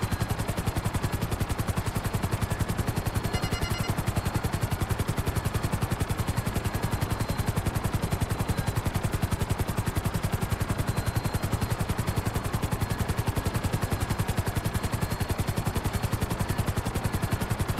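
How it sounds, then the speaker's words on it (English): A helicopter flies in GTA 5 Online, its rotor giving a rapid, steady, loud chopping pulse that holds unbroken throughout without talking. "I am a chopper commando. I have command of this chopper."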